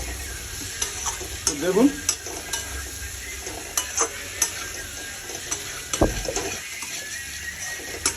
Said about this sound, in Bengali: অ্যাড করে দেওয়ার পরে আলুগুলোকেও মোটামুটি ভালো করে আমি কষিয়ে নেব